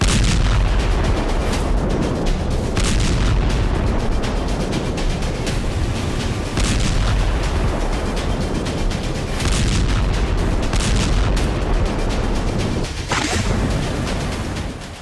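Israeli airstrikes bombing buildings in Gaza: a dense, loud, continuous roar of blasts and rumbling booms with sharp cracks throughout, no talking.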